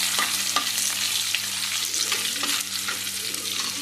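Asafoetida (hing) powder fries in hot oil for a dal tadka, giving a steady, close sizzle with small crackles and the occasional scrape of a stirring spoon. No one speaks over it.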